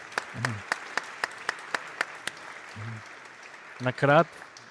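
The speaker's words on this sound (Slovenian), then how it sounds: "Draga publika, jaz mislim, da si to zasluži en velik aplauz" A few people in a talk audience clap sparsely in an even rhythm, the claps fairly faint, with brief voices breaking in near the end.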